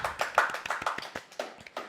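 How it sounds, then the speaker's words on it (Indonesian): A small group clapping hands in quick, uneven bursts, close by and fairly loud, with no talking over it. "Tepuk tangan."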